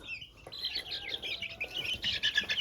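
Chicks chirping in a brooder tub indoors, a dense overlapping stream of high, rapid peeps, close and continuous with no talk.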